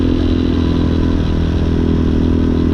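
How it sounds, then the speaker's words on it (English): Street-legal dirt bike ridden at night, its engine droning steadily and loudly at close range with a rough rumbling tone and some rattling clatter, continuous throughout with no talking. "get out here and enjoy my bike."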